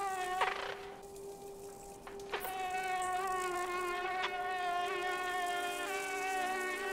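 An insect in the video game Limbo gives off a continuous, wavering buzz that shifts slightly in pitch, with a few sharp clicks and thumps near the start.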